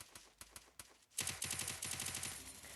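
Gunfire in the Counter-Strike video game, a few scattered shots followed by a rapid, loud burst of automatic fire that continues to the end.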